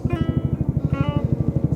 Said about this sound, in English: Here comes the helicopter again.